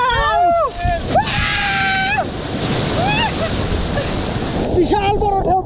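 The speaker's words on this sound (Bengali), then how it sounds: "দেখেন কত বড় বড় ঢেউ" Large sea waves crash and roar continuously along the shore at Maheshkhali island, with strong wind buffeting the microphone, while people talk and call out excitedly over the surf.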